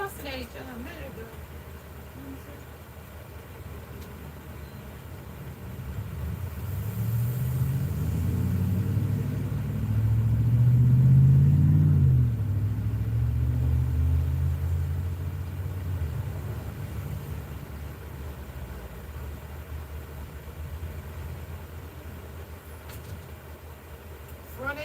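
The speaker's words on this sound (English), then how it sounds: "Those are cars." Low rumbling traffic as cars pass outside, swelling to a louder pass in the middle before fading back to a steady distant hum, with a voice talking over it.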